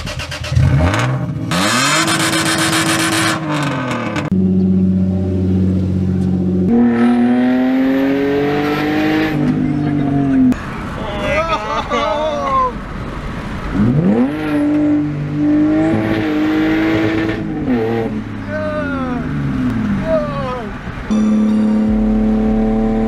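A Lexus IS300 with a muffler-delete exhaust is revved hard again and again, loud and close, each climb rising to a raspy howl before dropping back to a rough idle, with no talking.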